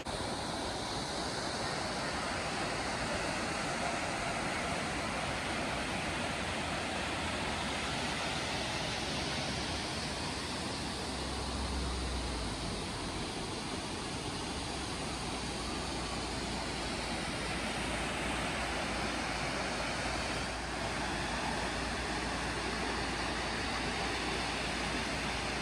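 The Salto Ventoso waterfall, heard as a loud, continuous broadband roar of falling water that holds steady throughout, with no voices.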